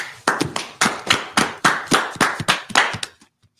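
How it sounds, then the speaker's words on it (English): A small group claps hands in a steady rhythm of about a dozen sharp, close claps, ending abruptly in near silence. "All right, clap it up."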